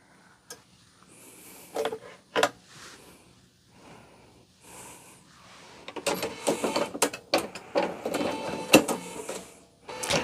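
A home sewing machine stitches through quilt block fabric in short bursts, quiet pauses and soft handling between runs at first, then a longer stretch of steady, close, rattling stitching.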